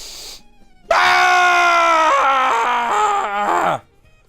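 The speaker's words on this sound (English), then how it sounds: "Everybody scream into the void with me." Several people scream together into the void in one loud, sustained, wavering cry lasting about three seconds, after a brief soft breath, then it cuts off sharply.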